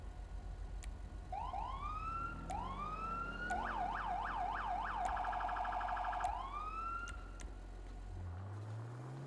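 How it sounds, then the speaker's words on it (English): A Mastercom B police siren in GTA 5 winds up and down, switches to a rapid yelp, then returns to a wail over a steady engine rumble, with no talk. "Siren, we're using the Mastercom B siren. Sounds quite nice."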